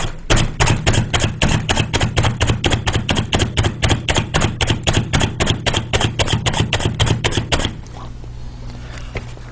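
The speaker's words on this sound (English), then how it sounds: "We're going to hit it a couple more times and get these things really chopped up" A Slap Chop hand chopper pounds almonds in rapid, evenly spaced slaps, about three per second, loud and close, then stops and leaves a quiet room hum.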